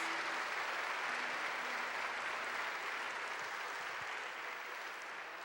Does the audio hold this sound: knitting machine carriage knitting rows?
no